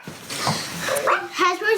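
A Hasbro Joy For All robotic companion pet dog gives short electronic barks and whimpering yips, close and fairly loud, mixed in with a person talking over it.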